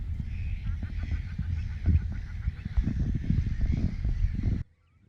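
Little mallard ducklings quacking and peeping outdoors, with a steady close chorus of nasal calls that stops abruptly near the end.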